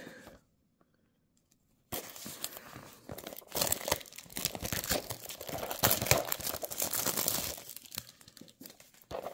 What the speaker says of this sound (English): let's open it up. You can see it's still in the plastic.